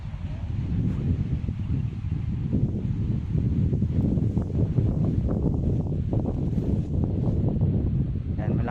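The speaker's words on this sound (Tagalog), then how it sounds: "Ang lakas ng hangin." Strong wind buffets the microphone in a vegetable garden with rumbling gusts and rustling, continuous and loud, with a person talking faintly underneath.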